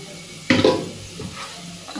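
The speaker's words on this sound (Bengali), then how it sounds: "পেঁয়াজটা আমার লাল লাল হয়ে গেছে, আর লাল লাল করেই ভাজতে হবে" Onions frying in a pan while being stirred, with a sudden burst of sizzling and scraping at the start that fades into a softer, steady crackle.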